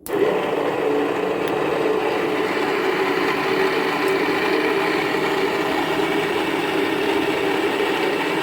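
Electric motor with worn bearings spinning with no load, a steady, close whining hum with a persistent mechanical rattle and faint tonal bands, running continuously without any speech.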